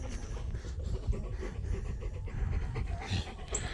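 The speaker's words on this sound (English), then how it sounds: "This is my dog. He's climbing up on me." A dog pants steadily and rapidly at close range, quiet, rhythmic breathing with no talking.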